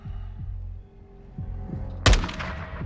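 A single loud, close gunshot from a sniper engagement in the Call of Duty Modern Warfare 2 campaign, cracking sharply after soft rhythmic thumps and lingering briefly.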